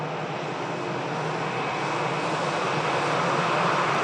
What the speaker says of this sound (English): the Sun Express that's on its way out